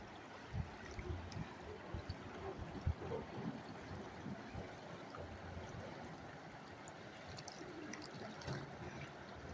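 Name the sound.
Toad River flowing water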